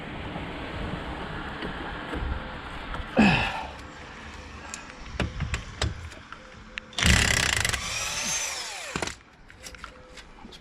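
A large impact wrench on a 2014 BMW F20 116d removes 18mm brake caliper carrier bolts, firing two loud, harsh bursts, one short and one longer, over a noisy workshop background.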